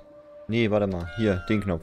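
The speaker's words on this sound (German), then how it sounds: "Ah, das ist die Katze." A cat meows in the video game Ghostwire: Tokyo, giving a few drawn-out, close cries while someone speaks German alongside them.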